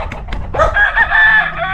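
Chickens and a rooster at a farm in Pereira, Colombia: scattered clucks open, then a loud, close rooster crow rises and holds, with hens clucking beneath it.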